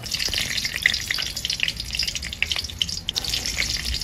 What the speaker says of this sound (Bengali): এই কালো জিরে কাঁচা লঙ্কাটা দিয়ে দিলাম।